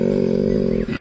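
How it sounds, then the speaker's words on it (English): A koala gives a short, deep, rasping bellow with a rapid pulsing throb, loud and close, lasting about a second before cutting off. "a lot of people might have heard a koala bellow and not know that it actually was a koala bellow"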